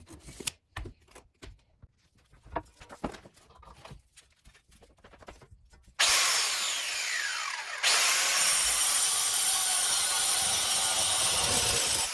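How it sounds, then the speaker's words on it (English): Power tool cutting a length of metal flat bar for a BMW coolant expansion tank bracket: scattered handling knocks and taps first, then a loud continuous grinding whine starts abruptly, pauses briefly, and resumes, close and sustained. "cut the flat bar to that length"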